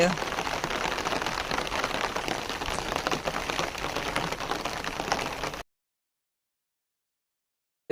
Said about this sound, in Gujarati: તો અતિ ભારે વરસાદ ચાલુ છે હાલ